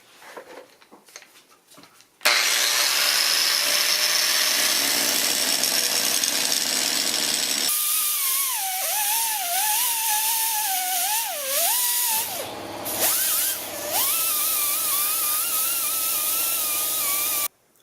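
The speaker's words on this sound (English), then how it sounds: "I use a Scotch-Brite pad on the die grinder to make sure there's no sharp edges" Die grinder fitted with a Scotch-Brite pad deburring a cord slot in reclaimed transmission parts for a salt lamp, a loud steady high-pitched whine sustained for about fifteen seconds with a shifting, wavering pitch as the pad bears on the metal.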